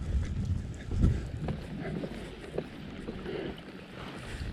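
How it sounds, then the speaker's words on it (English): Water of a trail creek running and splashing as a young horse in a traditional hackamore wades across, a faint steady wash with small splashes and soft hoof sounds, no talk. "He's a little bit nervous about the creek here. It's making noise and stuff."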